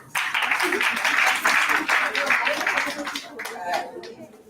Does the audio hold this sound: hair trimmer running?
no